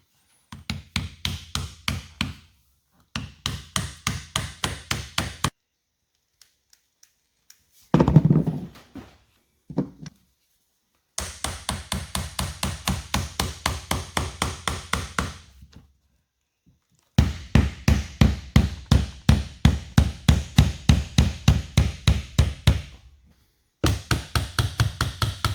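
Sharp repeated knocks and taps come in rapid bursts as trim is pried and worked off a leaky boat deadlight, close and loud, with short pauses between clusters of strikes.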